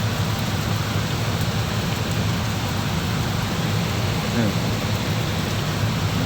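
Steady heavy rain pours down close by as a dense continuous hiss, with low rumbling underneath suggesting a storm, unbroken for the whole stretch.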